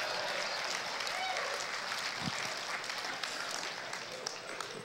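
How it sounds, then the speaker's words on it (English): An audience at a state evangelism conference claps steadily in a large hall, a dense continuous patter of hands held at an even level throughout, with brief voices mixed in. "Give me a hand clap for that one."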